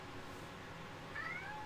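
A cat meows in a short, faint call rising near the end, a couple of quick tonal mews over a steady background hiss in an indoor setting.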